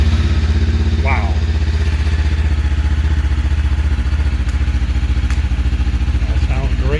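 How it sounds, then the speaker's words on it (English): A new 2025 Lifan KPT 400 motorcycle engine idles just after starting, a loud, steady, close throbbing rumble with rapid regular pulses, while a voice speaks briefly over it. "So now I need to get it started up."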